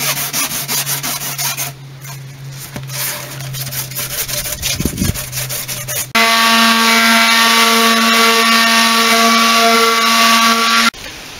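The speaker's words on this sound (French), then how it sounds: "la ponceuse fonctionne beaucoup plus vite" An electric sander works on polystyrene with a steady abrasive rasp, joined partway through by a louder, higher-pitched motor whine that holds until it cuts off near the end.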